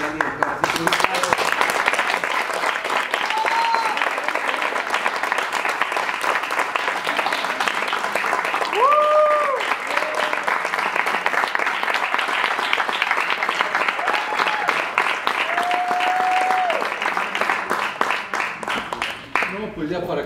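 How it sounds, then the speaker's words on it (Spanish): A theatre audience claps steadily for about twenty seconds, a dense sustained applause with scattered cheers and whistles rising over the crowd until it tapers off at the end. "darles las gracias por el apoyo, por los aplausos"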